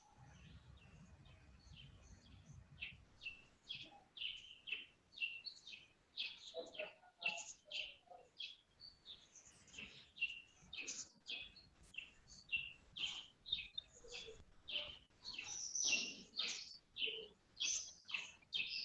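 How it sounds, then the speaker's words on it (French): A songbird sings outdoors in a long, lively run of quick chirps and trills, fairly faint and distant, with a low rumble at the start. "quel est l'oiseau que nous entendons actuellement?"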